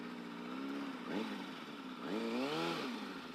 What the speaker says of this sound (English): You wanna rev the fuck out of it when you're clutching it, pretty much to redline almost.